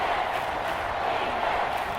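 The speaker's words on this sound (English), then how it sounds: "Crowd getting in it a bit already." Steady, dense stadium crowd roar from the Madden 24 video game during a Seattle Seahawks vs Los Angeles Chargers matchup, holding at an even level throughout with a faint voice mixed in.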